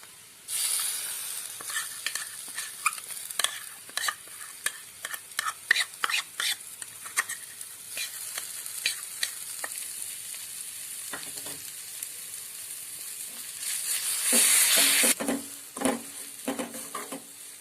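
Ground chili paste fries in oil for a dried shrimp pickle while a spoon scrapes and stirs it in the pan. A close crackling sizzle comes with irregular clinks and scrapes, and a louder hissing burst comes near the end.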